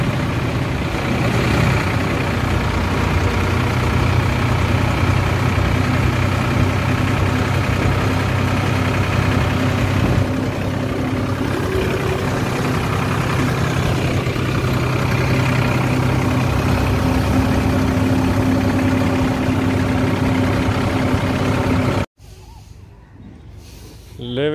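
A Farmtrac 60 Deluxe diesel tractor engine held around 1600-1700 rpm, a loud, steady low rumble with a constant drone throughout, someone talking over it, cutting off abruptly near the end.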